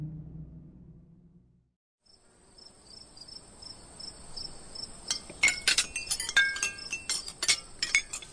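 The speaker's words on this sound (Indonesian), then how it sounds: "Suara gelas, sendok, dan piring beradu." Glasses, spoons and plates clink together at night, scattered bright clinks growing busier over a steady chirping of crickets, with no voices.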